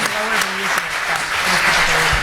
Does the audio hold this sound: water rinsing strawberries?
no